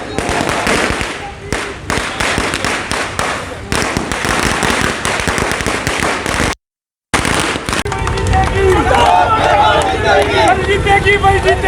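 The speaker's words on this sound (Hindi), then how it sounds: "देखिए आतिशबाजी चल रही है।" Fireworks and firecrackers go off in rapid, crackling volleys at an outdoor BJP party celebration, loud and continuous, with a brief gap before the bursts resume amid crowd noise and voices.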